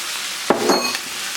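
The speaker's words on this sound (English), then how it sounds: "I'm going to stir this up and get it ready." Chicken gets a brief stir in a hot pan, one sharp scrape followed by a short sizzling burst, heard close and alone.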